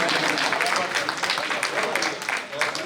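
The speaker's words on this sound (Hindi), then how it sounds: "तालियां तो बजा दो यार" An audience applauds at a Pakistani poetry mushaira, a dense, steady wash of clapping that carries on for a few seconds, with a voice talking over it.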